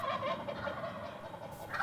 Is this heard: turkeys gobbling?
yes